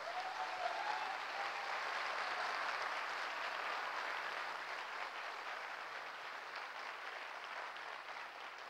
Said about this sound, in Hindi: ये तालियां आपने अपने लिए बजाई हैं, मेरे लिए नहीं.